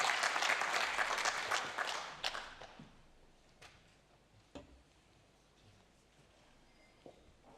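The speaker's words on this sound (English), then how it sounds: "welcome him with a good round of applause." A conference audience in Berlin at an OSCE Security Day applauds loudly, then the clapping thins out over a few seconds into scattered claps and faint taps in a quiet hall.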